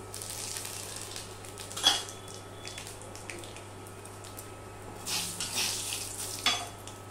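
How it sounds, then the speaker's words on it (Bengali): Panch phoron spices fry in hot oil for a bitter gourd dish, a quiet steady sizzle broken by a few brief stirring scrapes against the pan, close and fairly faint. "তারপরে আমি একটুখানি 5 ফোড়ন দিয়ে দিচ্ছি।"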